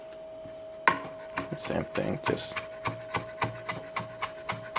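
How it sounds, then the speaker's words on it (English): A knife chops fresh cilantro on a cutting board for steak tacos, a sharp first strike followed by a run of quick, evenly spaced thuds, close and clear, with a few spoken words at the start. "cut the cilantro as fine as you like it."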